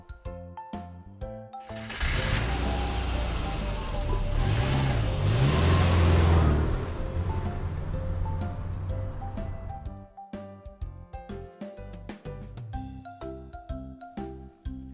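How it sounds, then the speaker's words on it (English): A London taxi engine idles and revs loudly for several seconds, rising out of and then fading back into a light musical backdrop. "London taxi."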